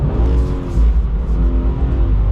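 Engine of a 2022 Subaru BRZ holds a steady, throaty drone while the car circles in a donut, loud and close with a sustained low tone and no voices.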